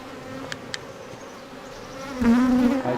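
Honeybees in an opened hive inspected a few days after a split, a steady low buzzing with a few sharp ticks early on and a louder, close buzz swelling near the end.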